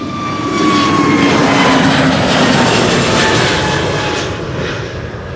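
A KLM Airbus A321neo departs Amsterdam Schiphol, its loud, close engine roar swelling and holding steady with whining tones, then easing slightly at the end.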